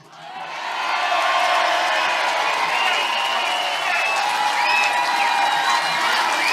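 A Glasgow independence rally crowd cheers for Uncle Shug, swelling quickly into sustained whoops, shouts and clapping from a large outdoor gathering, with some voices calling out through the roar.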